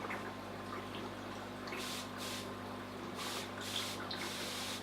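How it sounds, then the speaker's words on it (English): Several short hissing sprays of water from a spray bottle onto vinyl, in quick pairs, over a quiet room hum. "Now we're going to spray this vinyl."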